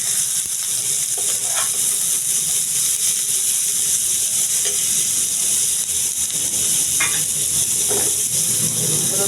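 Sliced beetroot frying in a pan with lightly fried onions, giving a loud, continuous close sizzle with faint stirring scrapes throughout and no talking.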